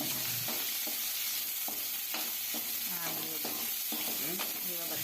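About a quarter kilo of peeled shallots sizzle and crackle steadily in hot oil, close by, for a spicy chicken chintamani, with a spoon or spatula scraping and stirring the pan at intervals.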